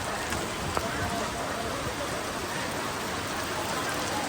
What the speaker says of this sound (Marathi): फुल पाऊस पडतोय